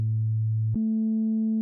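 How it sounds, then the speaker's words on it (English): Pure FM synthesizer sine wave tone from a four-operator synth with feedback off, two smooth steady held pitches, the second slightly higher, clean and alone without talk. "Without it, you have a sine wave."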